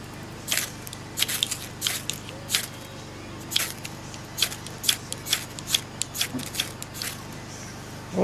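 An Anaconda Spinifex firesteel is scraped with its striker onto tinder in a series of sharp, bright rasping strikes, about a dozen irregular scrapes over several seconds against a low steady background hum.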